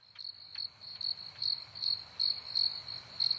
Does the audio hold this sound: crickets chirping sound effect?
yes